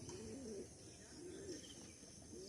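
A pigeon coos softly in a home loft, low rolling calls repeating faintly in a quiet room.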